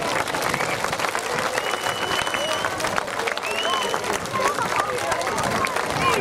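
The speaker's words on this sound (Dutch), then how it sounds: "Een heel hard applaus voor alle vrijwilligers." Loud, dense applause from a large crowd thanking volunteers at the closing of the Huttenland 2015 children's hut-building event, steady and sustained throughout with some cheering mixed in.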